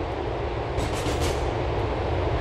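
LTA Rail train riding the J/3 Algonquin Outer Line in Grand Theft Auto IV, a steady loud rumbling roar of the moving carriage with a faint rise of hiss midway, no voices.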